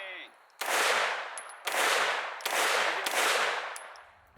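Four loud, booming shots from a Grand Power Stribog fired through a suppressor, each a sharp blast with a long decaying tail, spaced roughly evenly and close to the microphone.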